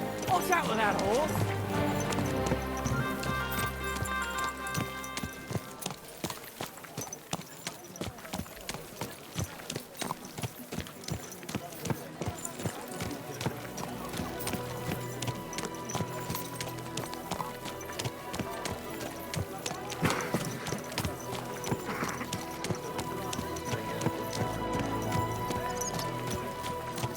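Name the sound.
horse hooves clip-clopping in a video game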